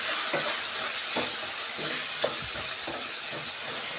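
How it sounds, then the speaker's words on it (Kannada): Coriander powder and garam masala fry in a pan for tomato rice, a steady close sizzle with repeated stirring scrapes every second or so and no voices. "ಹಾಗೆಯೇ ಧನಿಯಾ ಪುಡಿ ಒಂದು ಅರ್ಧ ಸ್ಪೂನು, ಗರಂ ಮಸಾಲ ಒಂದು ಸ್ವಲ್ಪ, ಎಲ್ಲ ಚೆನ್ನಾಗಿ ಈ ಥರ ಫ್ರೈ ಮಾಡ್ಕೊಳ್ಳೋಣ"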